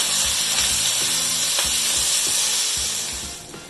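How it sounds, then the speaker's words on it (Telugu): Onion and potato pieces fry in hot oil in a pan for Telugu aloo methi curry, giving a steady loud sizzle with a few stirring scrapes and a taper at the end, with no talking. "ఆనియన్తో పాటు పొటాటో కూడా ఫ్రై అవ్వాలండి"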